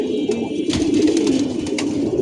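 Pigeons coo in soft, overlapping low murmurs on an enclosed rooftop while drinking water, close by, with a few sharper flutters and clicks mixed in.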